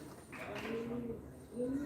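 Pigeons or doves cooing amid the birds of the İzmir bird market, low repeated coos near and fairly faint, with a soft bed of chatter and background noise throughout.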